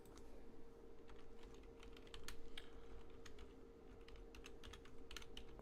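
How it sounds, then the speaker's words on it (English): Steady computer keyboard typing, quick clustered clicks running throughout, fairly close, with a constant low hum underneath. "I'm typing on a different screen here"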